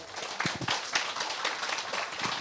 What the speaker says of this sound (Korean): 우선은 솔직하게 말씀해주신 우리 8분의 패널분들께 좀 큰 박수 부탁을 드리겠습니다